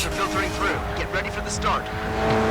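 A Subaru race car in the Xbox 360 racing game GRID 2, its engine revving and rising in pitch with short tire squeals, under someone talking over the game.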